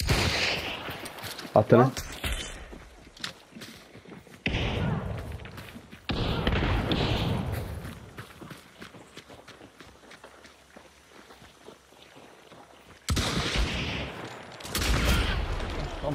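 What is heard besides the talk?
gunfire in Hunt: Showdown 1896 video game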